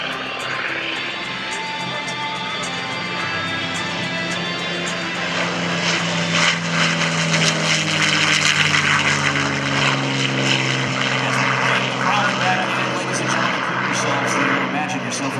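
A P-51 Mustang propeller aircraft at an airshow, a loud continuous engine drone rising and swelling as it passes near, with a public-address voice talking over it.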